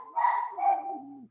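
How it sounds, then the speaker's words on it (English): A dog barks once in the background, a single drawn-out bark that trails off into a whine, with no one talking over it. "Got a dog barking in the back."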